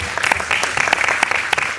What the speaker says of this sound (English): We applaud that.